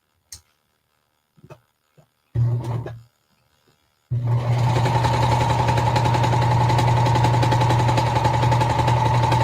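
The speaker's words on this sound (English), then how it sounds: "I'm going to run these through the serger." Serger overlocking the ends of a fabric seam: a few clicks and a short whir as it starts, then a loud, steady, fast mechanical hum that runs without a break to the end.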